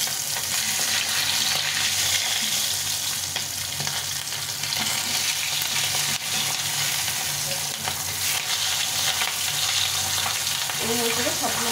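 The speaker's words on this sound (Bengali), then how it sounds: "তেলটা গরম হয়ে গেছে, এখন মাছগুলো ভেজে নেব।" Pabda fish frying in hot oil in a pan, a dense, steady sizzle and crackle that stays loud and even throughout, with occasional faint stirring sounds and no talk.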